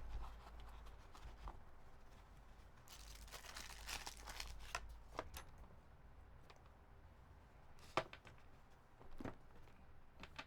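A gray bag being handled close by, quiet crinkling and rustling in short bursts with a few sharper crackles, soft and sparse against a low background.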